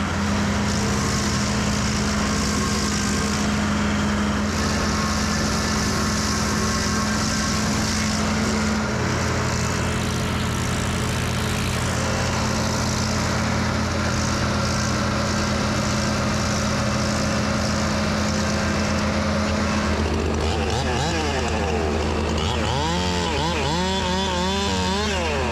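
A Bandit SG-75 stump grinder runs continuously with a loud, steady engine drone and a high whine from the cutting wheel, shifting in pitch as the load changes, close and with no talking.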